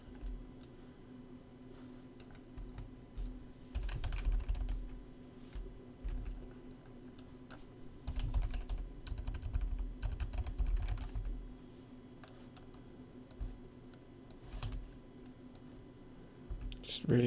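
Rapid clicks of a computer keyboard being typed on in bursts, close and fairly quiet, with pauses in between and a steady low hum underneath.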